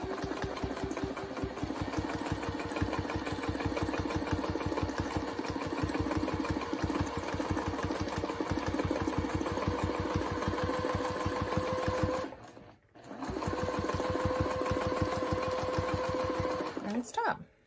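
Sewing machine doing free motion quilting with a template, a fast steady needle chatter running for about twelve seconds, a brief stop, then resuming, close and loud.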